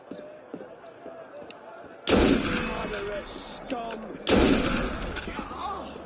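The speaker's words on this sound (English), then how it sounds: "I might even just go loud and use the gun to take them out." Two sharp, loud gunshots ring out a couple of seconds apart in Assassin's Creed Unity, set in Paris, each echoing and trailing off, with a voice talking through the scene.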